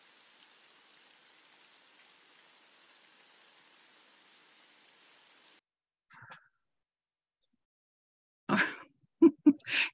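Rain falls and splatters on a sidewalk and window as a steady, close hiss for several seconds, then stops and gives way to silence and a few brief, louder splashy bursts.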